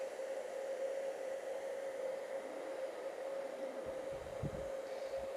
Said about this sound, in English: Take your hair dryer and heat up that trigger guard area.